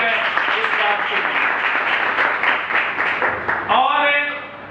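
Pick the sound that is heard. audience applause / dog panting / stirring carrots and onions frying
audience applause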